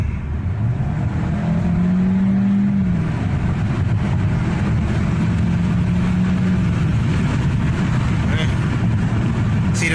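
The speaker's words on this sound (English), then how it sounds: "We're gonna do a quick 60 run and see what it run like." A 2021 Kia K5 pulls hard from a stop on a 0-60 run, its engine rising in pitch through gear changes with steady road and cabin noise throughout, heard from inside the car.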